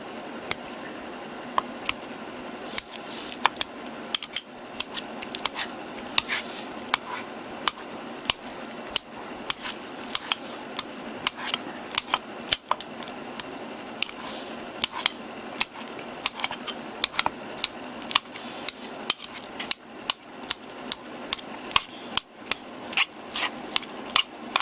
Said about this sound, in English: I'm gonna use this part right here, the scoop slash smasher, and see how well this mashes it